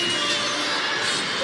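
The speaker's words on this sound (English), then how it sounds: "I don't think a rebound has ever gotten that kind of ovation" A basketball arena crowd at an Indiana Fever game roars in a sustained ovation after a rebound, a broad, even wall of cheering noise with no break.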